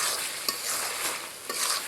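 Ash gourd stir-fried lightly in a pan, giving a steady close sizzle with a couple of brief scraping stir strokes, no voices.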